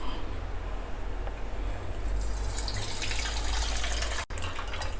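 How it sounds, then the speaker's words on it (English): Water pours off washed millet as it is drained in a kitchen, a steady close gushing splash that grows brighter and fuller partway through, with one brief dropout near the end and no talking. "See, wash the millet very well like this and drain out the water."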